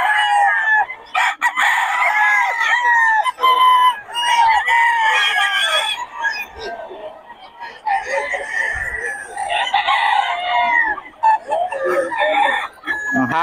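Young stag gamecocks crowing loudly and repeatedly close by, several overlapping cock-a-doodle-doo calls with clucking between them, with a few brief voices in the background.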